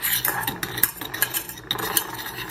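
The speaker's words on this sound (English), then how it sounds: "Dump your sugar and your cocoa powder into your pan, and you're just going to kind of get that all mixed up" Sugar and cocoa powder being mixed in a pan for chocolate gravy, with close, loud metallic scraping and clinking of a utensil against the pan in quick irregular strokes, without speech.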